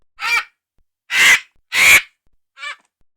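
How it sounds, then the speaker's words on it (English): A vulture gives four harsh, raspy calls, three loud croaking caws followed by a shorter, fainter one, separated by silence. "Vulture."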